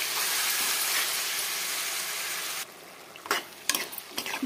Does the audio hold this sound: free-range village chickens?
no